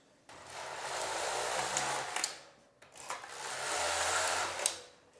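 A Passap Duomatic 80 knitting machine knits two rows as its carriage makes two sweeping passes, each a rising and falling whirring rush ending in a clack. The passes are close and moderately quiet, with a short pause between them.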